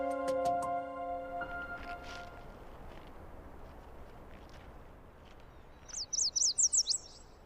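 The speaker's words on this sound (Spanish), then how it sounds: "El canto de los pájaros." Songbirds sing outdoors: a quick burst of rapid, high trilling chirps near the end, over a quiet natural background with a few faint tones and soft taps early on.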